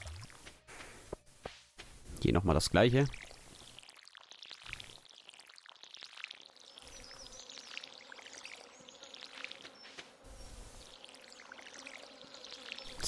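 Watering can being refilled with water in the Stardew Valley farming game, a short burst of splashing, pouring game effect near the start, with someone speaking briefly and quiet game ambience around it.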